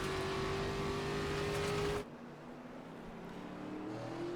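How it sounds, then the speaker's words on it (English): An ARCA race car on a road course, heard onboard: a loud, steady engine note under throttle that abruptly drops off as the driver lifts, then a quieter, lower engine hum that slowly builds again. "You can hear just how on and off the gas they are in some of these small turns."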